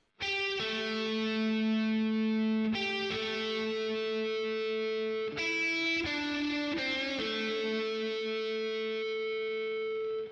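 A distorted electric guitar plays a slow riff, long, ringing chords that change a few times, sustained and fairly loud.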